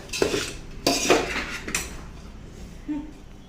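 Chillies being roasted and stirred in a pan, with loud clanking and scraping bursts of a metal spoon against the pan, tapering off and followed by a short voice.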